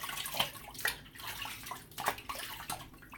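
Water running and splashing while shaving soap lather is rinsed off, a faint, close, irregular wash of trickles and splashes with no talking.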